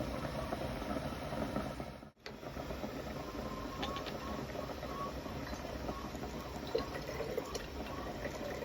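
Distilled water runs into a spray bottle to top it up, a steady, close trickle of liquid with faint drips that pauses briefly and then carries on.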